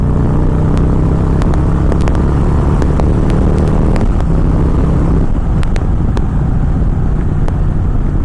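A 2017 Victory Magnum motorcycle cruises in fourth gear at about 3,500 rpm. A steady, loud engine rumble is mixed with heavy wind buffeting, and a few sharp clicks come through with no speech.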